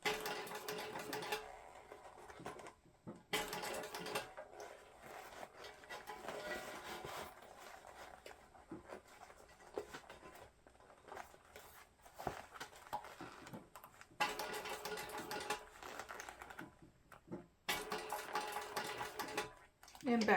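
A sewing machine stitches a zippered crossbody bag in short bursts of a couple stitches at a time, the steady mechanical whir starting and stopping repeatedly at close range, with no talk over it.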